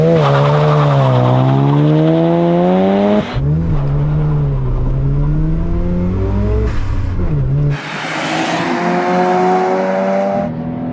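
A four-wheel-drive car launches hard using launch control, its engine screaming up through the revs with rising, stepped harmonics and a gear change partway through, loud and close, continuing to pull through the clip.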